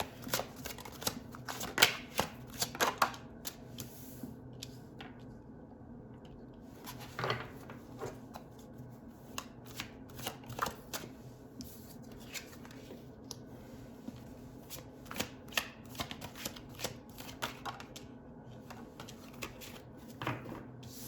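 Tarot cards being shuffled and picked by hand, a close, soft stream of riffling and flicking with sharp card snaps scattered throughout, no voices over it.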